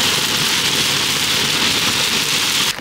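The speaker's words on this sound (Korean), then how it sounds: "비가 많이 내리더군요." Heavy autumn rain pours down steadily on a mountain ridge campsite, a dense, loud, unbroken hiss of drops with no pauses.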